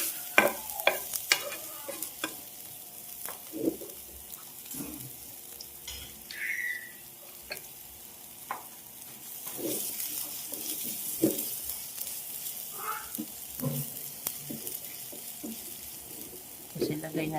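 Garlic frying in a pan, stirred now and then, for a budget corned beef with pechay dish: a steady low sizzle runs throughout, broken by scraping utensil strokes and clinks, with occasional running-water sounds nearby.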